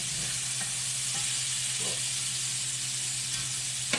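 Burger patties for a bacon cheeseburger bake sizzle steadily in a hot pan as they are flipped. The constant hiss and crackle stays close and even, with soft scrapes of turning and no talking.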